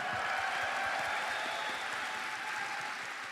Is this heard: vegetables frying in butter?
no